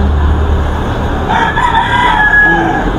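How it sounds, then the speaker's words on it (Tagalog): A rooster crows once at a fowl market in San Jose del Monte, Bulacan, a drawn-out call rising midway over a constant low rumble of crowd and background noise. "Yan ang bulik ni Boss Albert"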